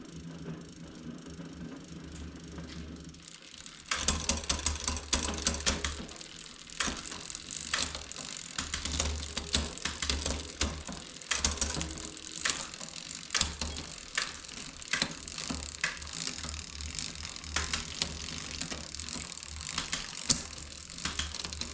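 Bicycle gears shifting and clicking during a tune-up, a quiet hum that gives way to a louder, rapid, continuous ratcheting tick of the freewheel as the cranks turn, close up and steady for many seconds.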